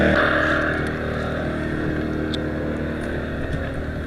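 A small 2,000-watt portable generator running outdoors beside a van, a loud, steady engine drone with constant pitch throughout.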